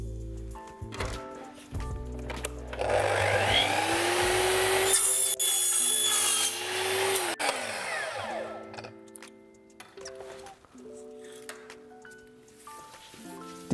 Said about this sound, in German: Und ich schneide jetzt da mal die erste Gärung drauf.